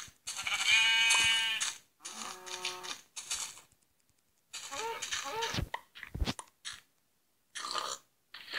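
Minecraft farm animals sound off in quick succession, a sheep's long bleat followed by other short animal calls, with brief silent gaps between them and a voice briefly talking.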